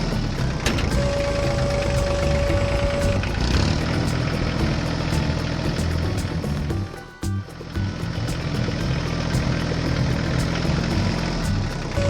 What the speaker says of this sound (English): The farmer attached the cultivator to the tractor and headed out to the field.